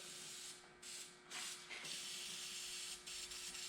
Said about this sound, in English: And then you just spray the protector.